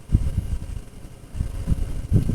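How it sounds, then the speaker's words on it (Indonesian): A Yamaha Fino FI fuel-injected motorcycle idles at just over 1000 RPM, a low, uneven putter with soft pulsing bursts, close by and without speech. "Dan RPM nya pun sudah mulai stabil ya, udah mulai stabil dan normal di RPM 1000 lebih ya."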